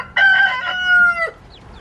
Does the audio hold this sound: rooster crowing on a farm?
yes